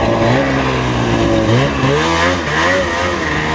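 A Ski-Doo Formula Z 583 snowmobile engine drones loud and close, its pitch wavering and climbing as the machine runs slowly over snow to pack down a trail, with no talking.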